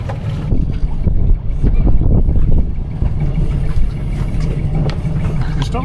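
A boat engine runs steadily after being started, a continuous low rumble with wind buffeting the microphone and faint voices in the background.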